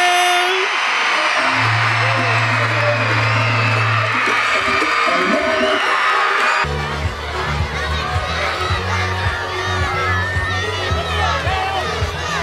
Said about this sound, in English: let's give a big scream for our state champion!